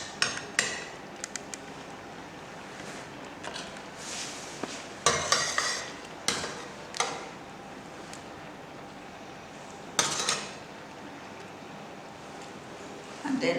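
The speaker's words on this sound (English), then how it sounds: "So the first thing I'm going to dish first is my mushroom sauce." A spoon clinks and scrapes against a pot and plate while mushroom sauce is served alongside Ewedu soup and fonio, with sparse sharp taps over a quiet kitchen background.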